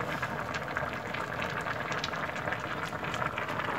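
Water with vegetable stock boils in a saucepan, a steady close bubbling and hissing throughout, no voices.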